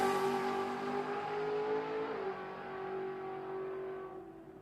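Nissan SR20-engined race car at Willowbank Raceway drag strip in Australia, accelerating hard with a high, steady engine note that shifts once and then fades into the distance.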